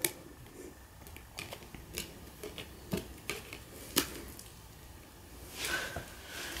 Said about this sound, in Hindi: let me arrange the cards.